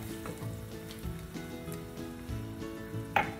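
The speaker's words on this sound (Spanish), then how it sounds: "Ahora agregamos nuestra salsa de tomate y vamos a revolver muy bien." Tomato sauce sizzles quietly in a pan for rajas con queso while a spoon stirs it, with a few soft knocks against the pan over a faint musical background.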